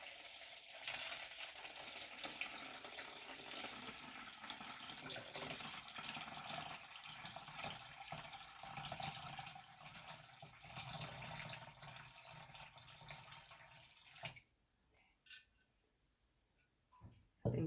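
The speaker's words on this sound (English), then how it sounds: "pour it into the bowl" Vinegar pours steadily into a bowl as a close, continuous splashing trickle that runs for many seconds, then cuts off, leaving a few faint handling clicks and a final bump.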